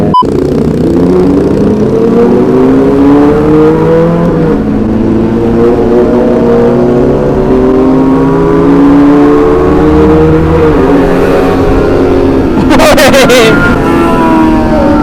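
Kawasaki ZX25R and ZX636 sport motorcycles with aftermarket exhausts rev loudly and continuously nearby, rising and falling engine tones filling the clip, with a sharp burst near the end and people talking underneath.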